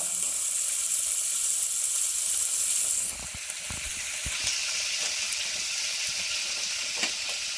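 Ash gourd pieces frying in a pan for a home-cooked curry give off a steady, bright sizzle. The sizzle drops slightly in level partway through, with faint clicks and stirring scrapes and no talking.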